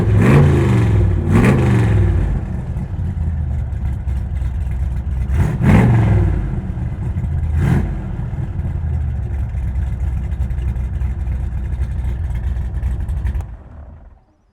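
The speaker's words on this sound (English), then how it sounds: "if we give her a push of the button, she fires into life, making a really good noise" A Shelby Ram Cobra's engine fires up close by, then a deep burbling idle broken by several sharp revs, loud and alone before cutting off at the end.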